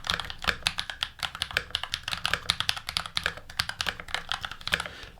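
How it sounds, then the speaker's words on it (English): A GMMK Pro mechanical keyboard with tactile Panda switches and GMK keycaps is typed on in a dense, steady stream of close, clacky keystrokes with no talking. "I do like the Panda switches that are here. They're nice and tactile."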